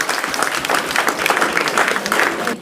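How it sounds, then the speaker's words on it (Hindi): Crowd applause at a talent award ceremony at TGS Academy in Manjhaul, Begusarai, vigorous clapping from many people with audible individual claps that cuts off sharply at the end. "चलिए, और भी एक बार जोरदार तालियां बजा दीजिए इनके लिए।"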